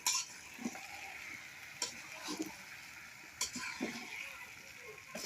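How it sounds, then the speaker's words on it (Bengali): Meat being browned and stirred in a pot over a clay stove in a village kitchen, a faint steady sizzle broken by scattered scraping and clinking strokes at an even, unhurried pace. "মাংসটা কষানো হইতেছে"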